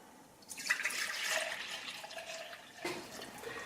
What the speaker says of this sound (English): I'm going to top whatever else I need off with water.